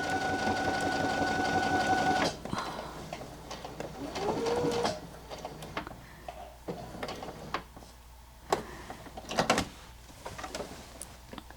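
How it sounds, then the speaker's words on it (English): A sewing machine stitches fabric nearby, whirring steadily for a couple of seconds, pausing, running again briefly, then giving way to scattered clicks and handling knocks. "When I get to the bottom of my line, I'm going to leave my needle down, pivot, and keep sewing."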